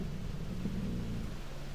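A thunderstorm in the Jurassic World Evolution video game, a low distant rumble of thunder over soft steady rain, faint and continuous.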